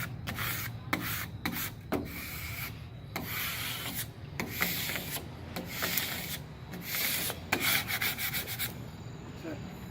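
A squeegee rubs across storefront vinyl in repeated short scraping strokes, close and fairly quiet, with irregular swipes and brief pauses.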